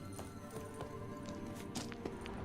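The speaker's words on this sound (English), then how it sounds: "Kelpie." Hooves of the horse Kelpie in the video game Witcher 3 clip-clop in a steady walking rhythm, moderately close, over a constant background hum.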